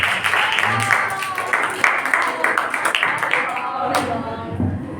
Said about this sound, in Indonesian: Tepuk tangan untuk Fisku Kalista